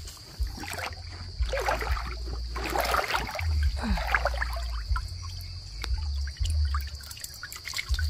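River water trickles and gurgles over shallow rapids at a rocky stretch while shrimp traps are set, a faint close burbling with a low steady rumble and occasional splashes, no talk.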